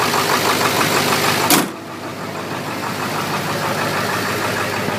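A 1999 Ford F250 Super Duty crew cab 4x4 with a 7.3 liter Powerstroke diesel and straight pipe exhaust idles steadily with a rough, knocking rumble, briefly interrupted by a short sharp noise before settling back into a continuous drone.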